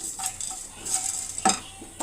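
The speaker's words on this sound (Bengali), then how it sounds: "এইগুলো আমি কড়াই দিয়ে দিলাম। দিয়ে আমি খুব লাল করব না, হালকা করে একটু নেড়ে চেড়ে এটা ভাজা ভাজা করে নিচ্ছি।" Black pepper, cumin and fennel seeds dry-roasting in a kadai, stirred with short scraping and rattling strokes in brief bursts over a faint crackle, close and fairly quiet.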